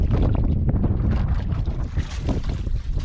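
Strong monsoon wind buffets the microphone on a small fishing boat at sea, a loud continuous low roar with gusty surges and the wash of the boat running through waves.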